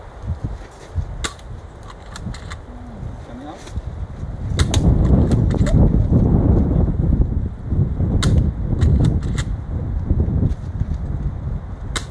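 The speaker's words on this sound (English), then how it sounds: "Now we're shooting the Daisy Model 25." Daisy Model 25 pump BB gun fired at cans by a lake: several sharp, light cracks spaced a few seconds apart over outdoor wind and background noise, with voices heard at times.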